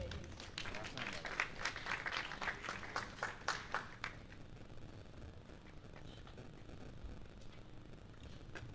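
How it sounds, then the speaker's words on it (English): An audience claps at a Nigerian foreign-policy conference, a burst of dense applause that fades after a few seconds into quieter room noise. "A round of applause for him, please."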